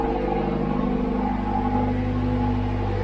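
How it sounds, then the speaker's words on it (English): A Fiat 124 Spider engine idles steadily after an oil service, a smooth, even exhaust drone with a constant low hum and no change in pace, close and alone. "Got a good exhaust note here."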